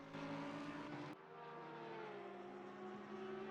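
Racing-game cars, a Lexus among them, scream along the Nürburgring circuit side by side, engines droning loud and steady with a shift in pitch partway through, and no talk over them.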